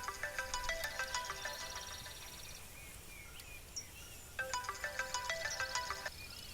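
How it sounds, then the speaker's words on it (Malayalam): An electronic phone ringtone plays in two bursts of rapid, chirpy melodic beeps with a short pause between them. The ringing is fairly faint against a quiet background. "Sir phone."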